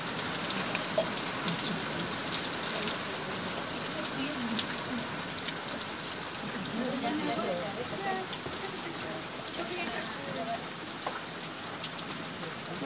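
Heavy rain pours steadily during a hike in the Great Smoky Mountains, a dense, continuous hiss of drops drumming on surfaces nearby with no voices, unbroken for the whole stretch.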